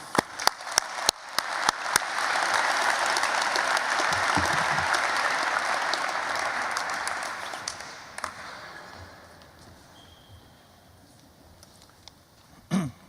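An audience applauds to welcome U.S. Department of Energy Deputy Secretary Dan Poneman at a SIPA event. A few sharp early claps swell into sustained clapping for several seconds, then fade into a quiet room.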